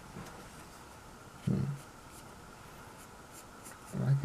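Pencil sketching on paper while drawing a cartoon figure: soft, faint scratching punctuated by two brief, firmer strokes.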